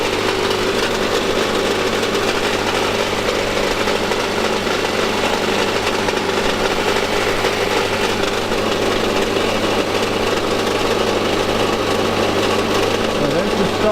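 A Subaru engine idles up close under an open hood, with a terrible noise from the back of the engine bay. A continuous, even rattling drone with a ticking, knocking texture holds steady throughout.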